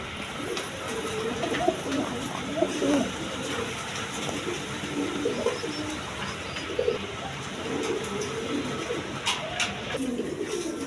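Pigeons at a market stall coo in soft, repeated low calls across the scene, steady and moderately close amid a busy background hum with occasional faint chirps.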